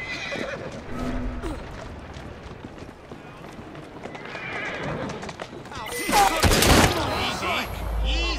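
A horse in the video game Assassin's Creed Syndicate whinnies and hooves clop over busy background noise, with a louder burst of activity near the end; a person speaks softly in places.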